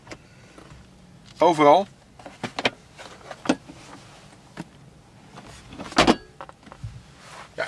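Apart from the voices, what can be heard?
motorized panoramic roof of a 2019 RAM 1500 moving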